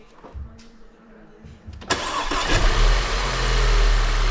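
An overhauled Audi 1.8 TFSI engine with a history of oil loss and rough running cranks briefly and catches, settling into a loud, steady idle after a quiet stretch with a few clicks and soft voices.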